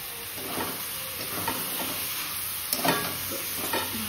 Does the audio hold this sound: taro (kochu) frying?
yes